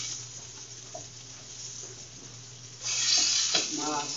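Green beans and onion sauté in a restaurant kitchen pan, giving a soft steady sizzle that swells louder partway through as the vegetables are tossed, with faint voices murmuring in the background.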